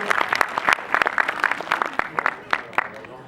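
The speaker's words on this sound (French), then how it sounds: "On applaudit très très fort." Clapping from a magic show audience, a smaller crowd with distinct individual claps standing out in an uneven, fluctuating patter, fairly close, with some voices mixed in.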